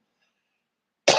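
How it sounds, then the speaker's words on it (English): A single harsh cardiac cough bursts out close and loud right at the end, after a long stretch of near silence. "as I start to get that cardiac cough"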